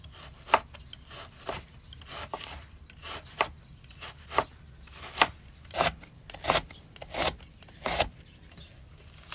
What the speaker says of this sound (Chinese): 剁点肉